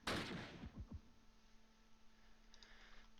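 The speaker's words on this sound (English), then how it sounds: "Machine gun fire." Burst of machine gun fire in the Close Combat wartime strategy game: a loud opening volley of rapid sharp shots that quickly fades, followed by a quieter low hum and a few faint distant clicks.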